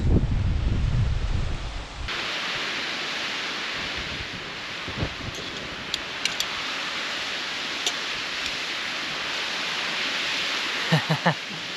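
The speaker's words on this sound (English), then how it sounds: "stunning waterfall is right behind me" A waterfall in an off-grid canyon rushes with a constant, loud, broad roar that holds steady throughout, with a few faint knocks from nearby camp cooking near the end.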